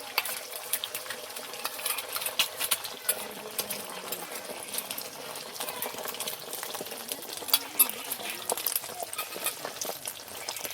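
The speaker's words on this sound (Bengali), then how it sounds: "এই ডিমটা আমি এখন ভেজে নেব, সবগুলো একসঙ্গে দিয়ে দেবো, ঝুড়ো ঝুড়ো করে ভেজে নেবো আমি।" Eggs are fried and scrambled together in hot oil in a kadai, giving a steady, even sizzle with light scraping and stirring clicks scattered throughout.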